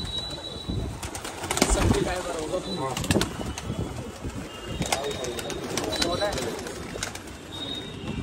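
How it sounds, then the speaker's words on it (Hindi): A loft of Pakistani Kale Katle pigeons coos in overlapping throaty bursts, with sharp wing flaps and flurries breaking in up close, while someone talks briefly in the background. "काले कतले हैं, पाकिस्तानी जो है, सभी कबूतर हैं भाई इसमें"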